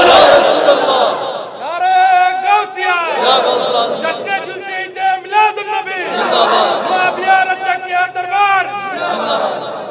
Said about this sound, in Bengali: একটা হাত তুলে বলতে হবে নারায়ে তাকবীর, নারায়ে রিসালাত